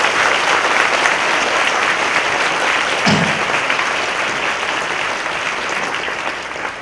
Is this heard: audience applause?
yes